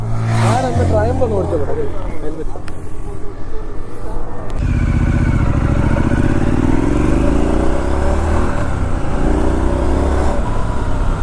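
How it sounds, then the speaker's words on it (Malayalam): An inline-four superbike roars loudly and close as the throttle is opened, its engine note sweeping up and down in pitch and staying dense and continuous throughout. "പെട്ടെന്ന് തന്നെ ത്രോട്ടിൽ കൊടുത്തു കഴിഞ്ഞാൽ പടാന്ന് ഇൻലൈൻ ഫോറിന്റെ പ്രത്യേകത കേട്ടോ"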